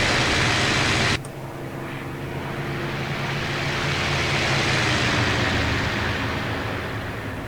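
A loud, steady Il-2 aircraft engine drone in the IL-2 Sturmovik video game, with a roaring, windy texture; a brief sharp break early on, then the engine keeps up its constant roar.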